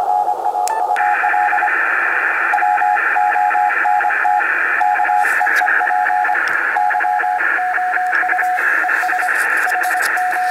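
Shortwave Morse code heard through a Collins 500 Hz mechanical filter on an amateur radio receiver, a steady keyed tone beeping in irregular dot-dash bursts over a constant band hiss for about ten seconds.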